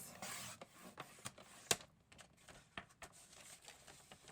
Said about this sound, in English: Just open our trimmer here and cut it 7 inches